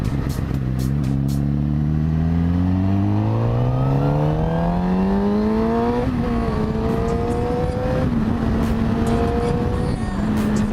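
A vehicle engine accelerating nearby with rising pitch through several gear shifts, loud and continuous, a steady drone that carries on through the end.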